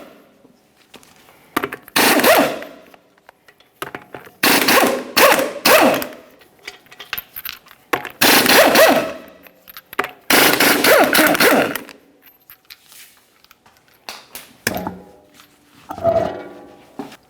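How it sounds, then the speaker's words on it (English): Five 22mm lug nuts being spun off the rear wheel of a 2011-2021 Jeep Grand Cherokee with a power tool, loud broadband bursts of roughly one to two seconds each, repeated with short pauses between, up close and without talk. "we're going to remove all 5 of our 22mm lug nuts in the wheel"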